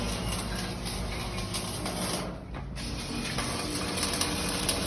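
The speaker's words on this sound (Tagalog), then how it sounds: "So ito pong ginagawa nila ay electric hollow blocks molder po yan." An electric hollow blocks molding machine runs with a steady mechanical clatter and hiss, holding an even level throughout apart from a brief dip partway through.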